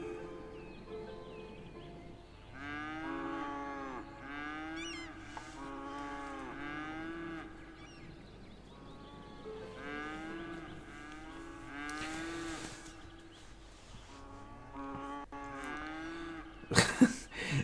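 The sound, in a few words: cattle mooing in video game Cities Skylines farm area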